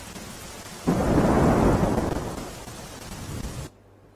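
A heavy thunderstorm: a deep roll of thunder swells suddenly over a steady downpour of rain, stays loud for nearly three seconds, then fades and cuts off.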